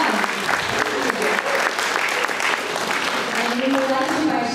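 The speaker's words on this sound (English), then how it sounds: "Let's give them a round of applause" A tech-day audience breaks into loud, sustained applause filling the hall, many hands clapping steadily while a voice talks over it toward the end.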